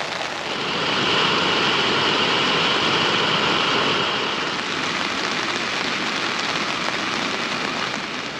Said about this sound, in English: raining non-stop since half six this morning